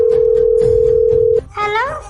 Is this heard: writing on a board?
no